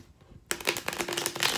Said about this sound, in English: One shuffle here for Leo